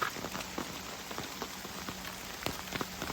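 Steady rain patters onto a forest trail and an umbrella on Hemlock Trail near Morgantown, West Virginia, with scattered louder drips and taps over a constant wash of falling water, close by and without any speech.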